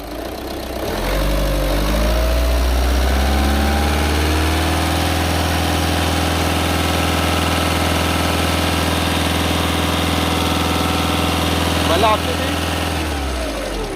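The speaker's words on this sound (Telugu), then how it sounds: "ఇంజిన్ సౌండ్ మాత్రం చాలా స్మూత్గా ఉంటుంది" A Volkswagen Ameo diesel car engine starts and settles into a steady, smooth idle with a deep low throb, holding evenly for several seconds before cutting off.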